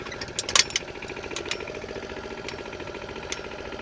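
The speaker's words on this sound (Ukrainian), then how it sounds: "буду пробувати, як працює розвантаження, тобто гідравліка так звана." Hydraulic unloading of a new trailer hitched to an MT Kozachok tractor: a steady mechanical engine drone with rapid rhythmic knocking, close and fairly loud, and a few sharp metallic clanks early on.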